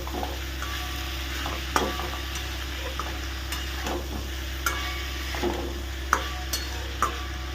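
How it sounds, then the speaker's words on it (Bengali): Prawns and steamed kochu flowers fry in a pan with a steady sizzle, while a utensil stirs and scrapes against the pan in repeated sharp ticks and clinks close by. "ভাপিয়ে রাখা ফুলটা দিয়ে ভালো করে ভাজতে থাকে"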